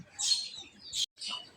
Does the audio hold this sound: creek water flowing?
no